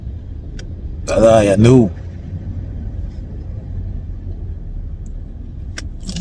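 A car driving along, with a low steady engine and road rumble running throughout while someone speaks briefly near the start.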